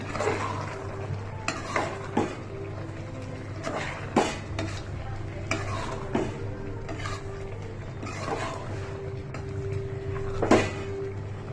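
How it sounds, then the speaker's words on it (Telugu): Spoon stirring coriander powder into a boti (tripe) curry in a metal pot, with repeated scraping strokes and clinks against the pan over a low sizzle, and a voice speaking intermittently. "ధనియా పౌడర్ మంచిగా కలుపుకుందాం"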